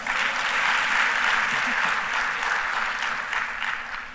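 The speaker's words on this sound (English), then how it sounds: "Another round of applause." Steady applause from a crowd, sustained clapping at even loudness throughout, filling the whole stretch with no talking.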